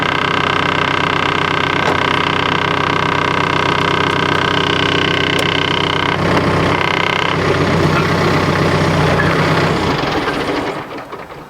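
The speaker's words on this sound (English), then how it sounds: "we're going to try to move the tractor" A tractor engine hums steadily at close range, shifts briefly as the machine is moved, then runs down and cuts out at the end.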